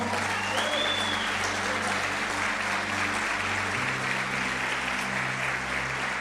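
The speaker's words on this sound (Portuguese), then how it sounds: "Pode aplaudir ao Senhor." Church congregation applauding during a Portuguese-language sermon, a dense, steady wash of clapping from many hands filling the room, with a low sustained tone, likely an organ or keyboard, running beneath it.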